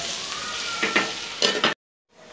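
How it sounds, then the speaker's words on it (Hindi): Vegetables for a vegetable biryani fry over high heat in a pan with a steady close sizzle and a few louder stirring scrapes, then the sound cuts off abruptly into near silence before a faint return. "गैस को हमें फास्ट करना है अब, और इस सब्जी को हम भूनेंगे।"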